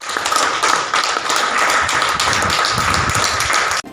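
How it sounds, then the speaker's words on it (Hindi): Medical college staff, including the dean, clap to welcome patients walking out recovered from COVID-19: a dense, steady stretch of many hands clapping close by that runs without a break and then stops abruptly at the end. "ताली बजाकर स्वागत किया।"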